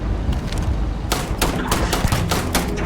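Rapid gunfire in the video game Starfield, a dense run of sharp, loud shots cracking in quick bursts with little pause between them, close and dominating.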